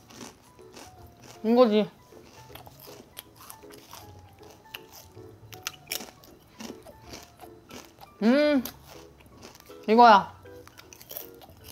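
Potato chips crunch and are chewed up close in scattered crisp bursts, while a person talks and gives several loud pleased exclamations.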